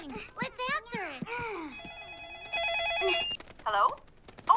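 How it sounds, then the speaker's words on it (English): Telephone ringing in a kids' cartoon, a repeated electronic ring heard between high, animated character voices, moderately loud and close. "Someone's calling. Let's answer it."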